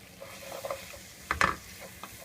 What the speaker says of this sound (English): just scrape off what you can off the bottom